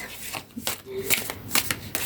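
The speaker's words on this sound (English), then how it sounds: "A couple more shuffles here." Playing cards being shuffled by hand, a few quick riffling bursts and soft rubbing sounds, close and fairly quiet.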